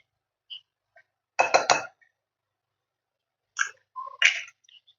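Mutton chops being mixed by hand with gram flour, cornflour and egg coating give a few sparse, close clinks and wet knocks of a utensil against a bowl, separated by silence.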